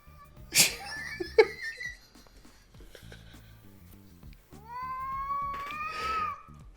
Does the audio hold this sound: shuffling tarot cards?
no